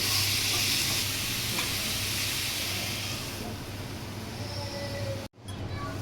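Chicken fries in a pan with a steady, loud sizzle and hiss that holds throughout, easing slightly before a brief clatter near the end.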